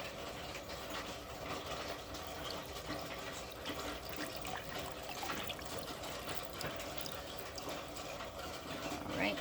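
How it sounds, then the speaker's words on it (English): Water running and splashing as it is poured into a rock tumbler barrel holding moss and tree agate, a steady close trickle lasting the whole moment. "I'll go ahead and add some water."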